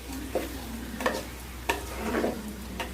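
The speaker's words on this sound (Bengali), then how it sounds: "চাল ডাল একসাথে করে এমনভাবে ভাজতে হবে যাতে করে শন শন শব্দ হয়" Rice and lentils frying together in a pot for egg khichuri make a steady sizzle, with a few scraping stirs of a spoon across the pan bottom and no talk.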